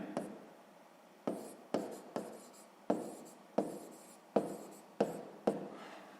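Pen or pencil writing out a math answer on paper for a sixth-grade exercise, close and fairly quiet, with about nine short scratchy strokes arriving in a loose, uneven rhythm and no talk.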